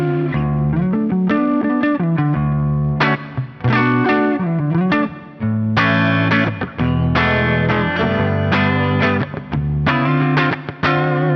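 A thick, distorted electric guitar with P90 pickups chugs through punchy chords and short riffs, loud and close, with brief gaps between phrases.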